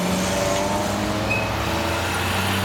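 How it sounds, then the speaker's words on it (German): Ford Granada cars pull away from a club meeting in Switzerland, a steady close engine rumble with traffic noise and faint tones passing through, no talking. "Und jetzt kommen die Belgier mit den schönen Fahrzeugen, hier der Kombi und hier dieses ganz schöne grüne Coupé"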